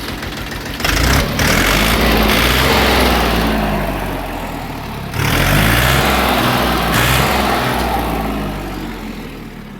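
A Kentavr 244SX tractor with a KM385VT engine runs loud and close, its diesel chugging steadily and revving up twice in surges before settling back.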